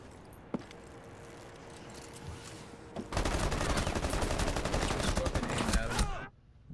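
Gunfire from a gunfight in Rainbow Six Siege. Rapid bursts of shots run loud and dense through the second half, after a quieter stretch of game ambience with a single sharp crack near the start.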